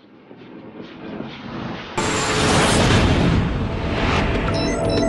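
Train on the Bernina line running through the high Alps from Tirano, Italy, a steady close rumble that grows sharply louder and fuller partway through and continues as a dense roar with no voices.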